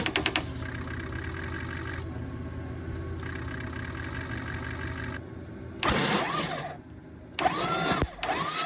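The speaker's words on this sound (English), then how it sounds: "let me keep cranking this thing over." Ford diesel truck engine, hydrolocked on the passenger side, cranks over steadily for several seconds with a droning mechanical whir, broken by louder bursts and pauses near the end; no talk.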